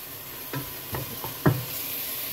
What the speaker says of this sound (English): Sprinkle your flour on, and stir it around so it coats the meat all real good.